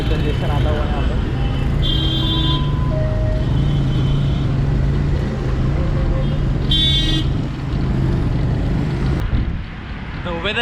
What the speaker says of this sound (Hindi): थोड़ा सा ट्रैफिक कंजेशन आता हुआ यहाँ पर।